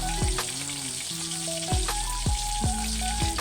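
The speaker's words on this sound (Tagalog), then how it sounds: "Prito na ako ng tilapia." Tilapia sizzles and spatters in hot oil, a steady frying crackle with a few sharp clinks of a utensil against the pan.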